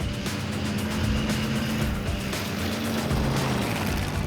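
A limousine drives on a race track, its engine roaring loudly and steadily close by, with rumbling and shifting tones as it labours through a turn.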